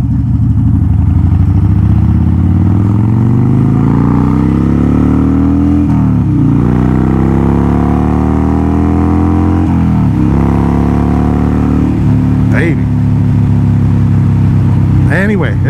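A motorcycle engine runs steadily and loud throughout, its pitch dropping as the rider slows for a turn on a gravel-strewn road, with wind noise but no talk.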